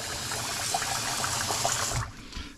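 Tap water gushes steadily into a pot of soaking rice for about two seconds, a close, full rushing pour that stops abruptly.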